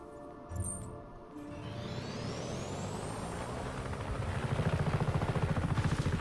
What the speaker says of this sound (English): You can take this chopper, Fratre.